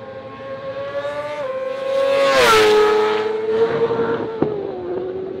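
A racing car roars down the straight at the Alès circuit, its engine note climbing loud as it passes close, then dropping in pitch and fading as it pulls away, with a brief sharp click near the end.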